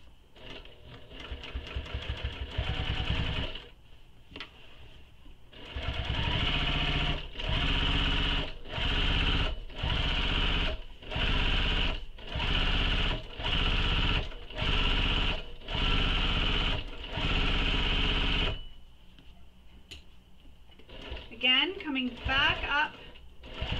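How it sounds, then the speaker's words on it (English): A sewing machine back stitches a few stitches on a handbag, then runs in a long series of rhythmic pulsing bursts before stopping, and a voice speaks briefly near the end. "So back stitching here, just a couple of stitches"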